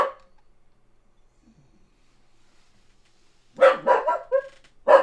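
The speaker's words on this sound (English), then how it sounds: "Let me go see what he's barking at." A long-haired dachshund lets out a quick run of four or five loud, close barks, the last coming after a brief pause, with a faint yip heard just before.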